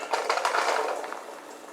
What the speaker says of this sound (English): If I take what I picked by hand and pour it out,